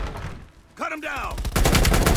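Burst of rapid automatic gunfire from a machine gun in the video game Call of Duty: Black Ops Cold War, loud and continuous at the end, after a short voiced exclamation and quieter game sounds.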